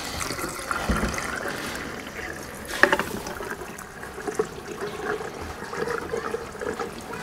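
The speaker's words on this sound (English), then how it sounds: "Let's get some fuel in and make sure there are no leaks." Fuel pours steadily into the tank of a Ram 1500 with a 5.7L Hemi and a faulty fuel gauge: a continuous liquid gurgle and trickle, close and moderately loud, with no talking.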